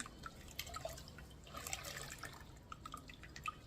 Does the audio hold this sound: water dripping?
yes